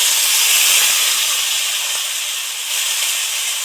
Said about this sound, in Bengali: হুম এবারে পরিমাণ মতো জল দিয়ে দেবো